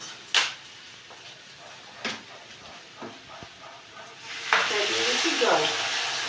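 Water poured into a sizzling pan of potato poppy-seed curry with bori, a sharp surge of hissing and bubbling following a few clanks and stirs of a utensil.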